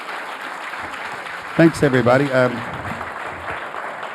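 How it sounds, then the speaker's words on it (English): Applause from an audience at a book talk fills the room, a steady, moderately loud wash of clapping that carries on throughout while someone briefly speaks over it. "about a round of applause"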